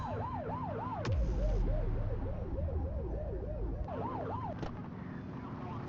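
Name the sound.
police car siren in The Precinct video game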